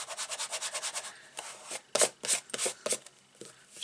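Repeated rubbing strokes over a paper card border to press it down, steady rhythmic scrapes followed by a few louder, uneven rubs, close and alone.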